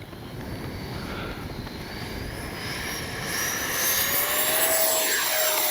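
A Freewing 70mm Me 262 RC jet takes off into the wind, its ducted-fan whine steady and close, then rising in pitch and loudness as it speeds up and climbs away.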